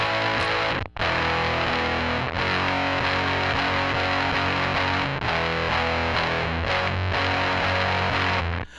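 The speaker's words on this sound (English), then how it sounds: "I'm going to turn down the volume on the Baz Fuss and see if that helps with the clipping at all" Baz Fuss fuzz pedal clipping and distorting a dense, loud musical signal, a continuous saturated buzz with brief dropouts, with no voices.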